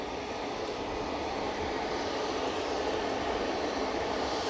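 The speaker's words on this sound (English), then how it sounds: "Next in, we've got the Sun Express 737 MAX 8 coming in from Dalaman." Sun Express Boeing 737 MAX 8 arriving from Dalaman at Manchester Airport, a steady broadband jet engine roar that holds loud and constant throughout with no voices.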